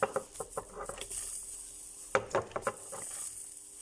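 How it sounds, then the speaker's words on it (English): Leeks sauteing in melted butter in a small pan give a soft, steady sizzle, broken by a few brief stirring scrapes and pan clatters; close and moderately quiet, with no voices. "So we'll melt our butter. And we're going to saute the leeks."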